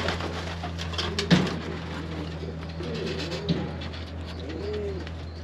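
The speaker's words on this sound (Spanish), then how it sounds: "Es una paloma que me encanta" Pigeons coo softly in low, rounded calls spaced a few seconds apart, over a steady hum and faint background chatter, likely inside a loft of pigeons kept for sale.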